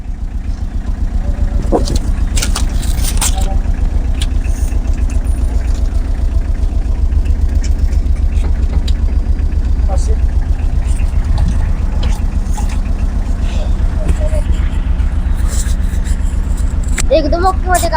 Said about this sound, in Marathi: म्हणजे आम्ही गाडी ठेवतो चालू.